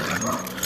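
A dog whimpers while being choked, a brief strained whine heard up close.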